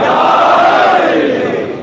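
Crowd at a Shia majlis gathering in Kuwait roaring a loud, sustained collective shout in answer to a religious slogan, one continuous massed voice lasting under two seconds.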